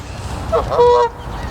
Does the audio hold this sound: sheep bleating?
no